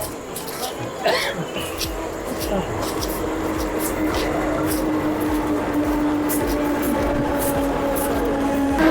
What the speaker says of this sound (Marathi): पनवेलची ट्रेन आलेली आहे